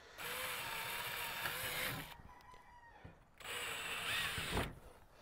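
A drill pre-drills holes into the side rail of a garden shed for window boxes, with two separate bursts of steady mechanical whirring and a quiet pause between them.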